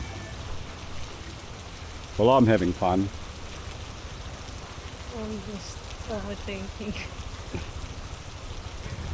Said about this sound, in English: It is pouring down with rain.